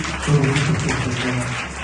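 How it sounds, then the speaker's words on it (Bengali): A church congregation claps together, a dense, steady patter of many hands lasting under two seconds with murmuring voices underneath. "আজকে চলে হাততালি দিই"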